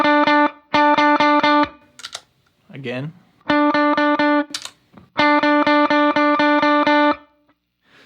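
An electric guitar runs through a POG octave pedal with a slight octave-up blend and the filter rolled down. Repeated bursts of rapid, evenly picked chords ring out loud and close, broken by a brief spoken word in the middle.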